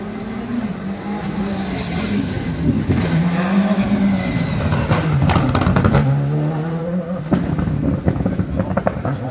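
A Ford Fiesta Rally2 car, number 19, races along a special stage at the Rallye d'Antibes, its engine droning and revving through gear changes, loud and continuous, with a commentator talking over it.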